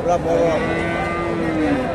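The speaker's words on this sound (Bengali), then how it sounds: "এখানে ভাইয়ের কাছে সুন্দর একটা ষাঁড় দেখতেছি" Friesian cross bull at a cattle market, a single loud, drawn-out moo up close, with low background market noise beneath it.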